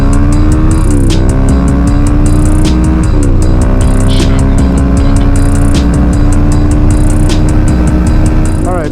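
Suzuki DRZ motorcycle riding toward a city, its engine loud and close with steady revving, repeated pitch drops at gear changes and wind buffeting throughout.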